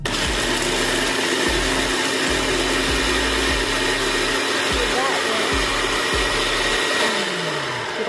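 A Philips electric food chopper runs while chopping carrots, giving a loud, steady motor whine. The pulses start and stop in short bursts, and the motor winds down near the end.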